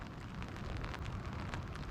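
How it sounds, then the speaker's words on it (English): Heavy cold winter rain pouring down steadily beside fishing water, a dense, even hiss of drops hitting the surface with no voices. "Figure as soon as I step here to fish, it starts pouring"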